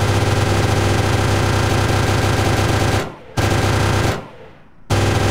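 A 6.5 Gatling door gun on a helicopter in ARMA 3 fires in a loud, continuous rapid-fire roar that breaks off twice briefly, then resumes.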